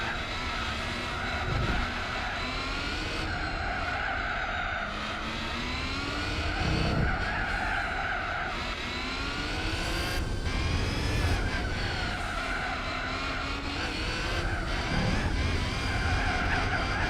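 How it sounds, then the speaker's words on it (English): Car tyres squeal almost continuously in Gran Turismo 4, loud sliding screeches riding over a steady racing engine drone with rising and falling pitch as the car corners, no voices. "The amount of times you're hearing the tyres squealing"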